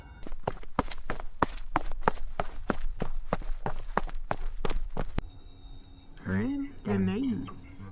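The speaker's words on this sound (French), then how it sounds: "Des bruits de pas résonnent autour de sa tente." Quick, evenly paced footsteps crunch around a tent, loud and close for about five seconds before stopping abruptly, followed by a voice speaking over a faint background.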